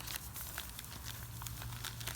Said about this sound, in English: Ava, if you would open one of those bags there for me.